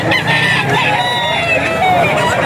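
A Sweater Gilmore gamecock rooster crows at a busy Bocaue auction market, its drawn-out call rising over steady crowd noise and background chatter.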